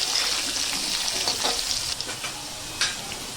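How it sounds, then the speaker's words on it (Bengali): Potatoes frying in hot oil for vegetarian alur dom sizzle steadily and loudly up close, with a few sharper crackles and stirring scrapes breaking through the constant hiss. "আলুটা আমার খুব ভালো করে লাল লাল করে ভাজা হয়ে গেছে।"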